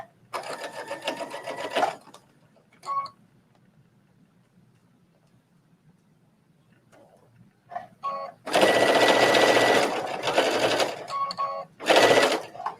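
Sewing machine stitching a trench coat seam in quick bursts, one short run, then a longer, louder stretch and a final burst, close and alone with brief clicks between.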